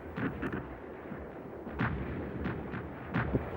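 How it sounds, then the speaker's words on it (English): Russian artillery and machine guns fire on a flat trajectory in a WWII battle for Berlin, with repeated heavy booms and bursts at irregular intervals, moderately distant, against a rumbling background. "Russian artillery and machine guns, firing on a flat trajectory, blazed all the while"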